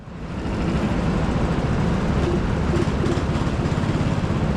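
Rental go-kart engine at TeamSport Sheffield pulling away at a race start, a loud, steady rising drone with a rapid mechanical rattle, close and continuous after a quick swell.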